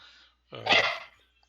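A single dog bark, fairly close and short, breaks the quiet at a home tabletop role-playing session.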